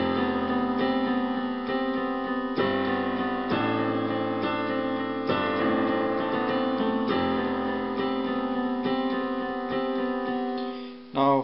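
Piano playing a song's pattern, a steady, dense run of repeated notes and chords held under sustain, close and continuous, with no voice over it.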